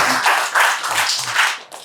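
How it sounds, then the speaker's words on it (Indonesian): Audience applause at a live stand-up comedy show, a dense steady wash of many hands clapping from the crowd, fairly loud and continuous before tapering off at the end. "Sekali lagi boleh dong tepuk tangan untuk kita semua teman-teman."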